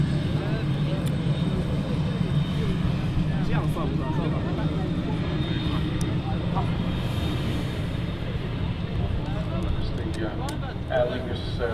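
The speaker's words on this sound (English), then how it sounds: "Aer Lingus A330 taxis out, the landing Ryanair 737 is inbound from Berlin" Aer Lingus A330 jet taxiing at Manchester Airport: a steady, droning engine rumble and whine that holds at a constant level throughout, with someone talking over it.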